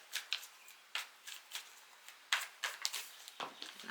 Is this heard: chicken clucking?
no